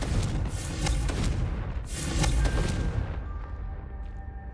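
A Confringo spell blast in Hogwarts Legacy: two heavy booming explosions in quick succession, loud and close, with rumbling debris, then fading into a quieter hum and tone.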